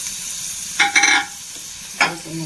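Amaranth (cheera) stems sautéing in a pan: a soft background sizzle broken by a few close stirring scrapes, with no talking.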